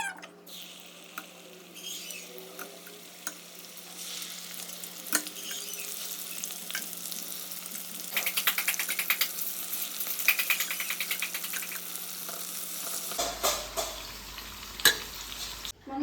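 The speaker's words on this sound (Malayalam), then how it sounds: "അപ്പോൾ ചിക്കൻ ഫ്രൈ ചെയ്തുകൊണ്ടിരിക്കുകയാണ്" Chicken frying in a pan crackles and sizzles continuously at close range, with dense popping throughout and a few sharper spatters toward the end.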